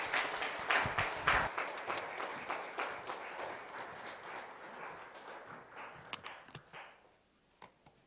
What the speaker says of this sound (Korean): 우리 나오실 때 뜨거운 박수로 격려해 주시죠.